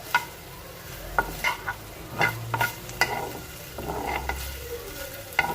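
Chicken pieces for shawarma are stirred in a pan over low heat, with scraping utensil strokes and soft clinks over a gentle, close sizzle.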